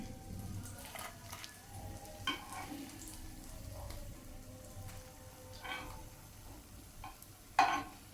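Chapila fish frying in a pan, a soft, steady sizzle with scattered crackles and pops and a few sharper spits, quiet and close.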